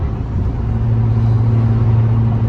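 Supercharged all-wheel-drive car on the move, a steady low engine drone with a faint constant whine riding on top, close and continuous throughout.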